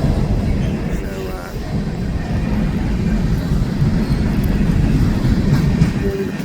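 A loaded Powder River Basin coal train in Wyoming, with a pusher locomotive, rumbles past close by in a dense, continuous low roar with steady wheel and car noise. Someone talks at times over it.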